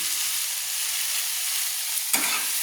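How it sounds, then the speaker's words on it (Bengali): Spice masala being stirred and fried in hot oil for a Bengali lau chingri (bottle gourd and prawn) dish, a steady close sizzle with one sharper scrape of the spoon near the end. "দিয়ে এইভাবে মশলাটাকে নেড়ে নিতে হবে, যতক্ষণ না তেল ছাড়ছে ততক্ষণ মশলাটাকে কষিয়ে নিতে হবে"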